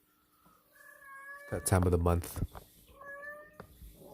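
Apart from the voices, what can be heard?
cat meowing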